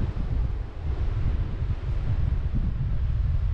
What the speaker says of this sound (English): bit of a wind